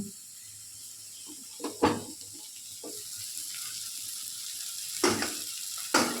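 Spice masala frying in a pan for a lentil dish, a steady soft hiss with a few louder scraping stirs near the start and again toward the end.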